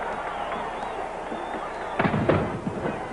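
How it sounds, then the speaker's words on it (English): A cannon fires at a San Diego Chargers stadium after a score, booming in two or three heavy thumps amid the rumble of a big crowd. "the cannon that always goes off when the Chargers score goes off here in San Diego"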